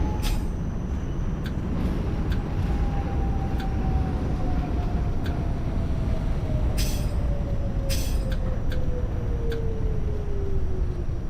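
An R68A subway train on the D line runs in the OpenBVE simulator, giving a steady loud rumble with a slowly falling motor whine and a few sharp metallic clicks and clanks over the rails.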